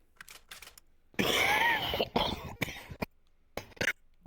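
A burst of harsh, hacking coughs follows a few faint clicks, then trails off into a couple of softer coughs, close by.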